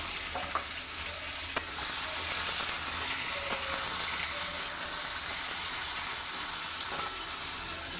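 Chopped tomatoes sizzle steadily in a pan for a raw pumpkin curry, a constant close frying hiss broken by a few light clicks of stirring.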